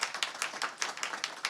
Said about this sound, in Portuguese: Fernanda, presidente do FNDE, mais uma salva de palmas para ela.